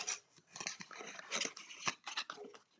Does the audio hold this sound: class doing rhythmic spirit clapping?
no